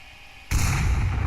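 A single loud grenade blast in the VR shooter Onward, starting abruptly after a quiet moment and rumbling heavily to the end.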